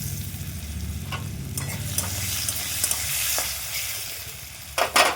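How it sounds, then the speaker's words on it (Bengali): Chopped green tomatoes frying and sizzling in a hot pan, a steady loud crackling hiss near at hand with a few scraping stirs and clinks of a spatula, and no talking. "টমেটোটা ভালো করে ভেজে নিলাম, কাঁচা গন্ধটা থাকবে না"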